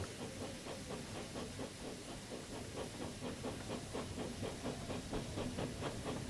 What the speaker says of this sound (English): I can hear another train.